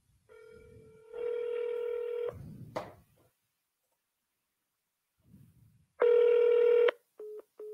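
Telephone dialing tones while calling a number: a long steady tone, then a short touch-tone sequence, silence, another loud steady tone and two brief beeps, clear and close.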